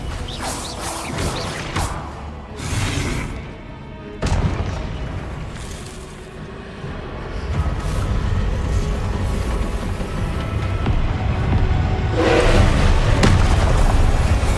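Spell blasts in the video game Hogwarts Legacy land as a run of deep booming bursts and crackling impacts, some sharp and loud, others rolling into a sustained rumble over about fifteen seconds.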